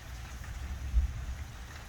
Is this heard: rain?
yes